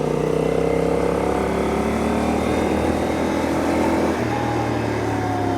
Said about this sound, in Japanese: 今5000回転まで回してみました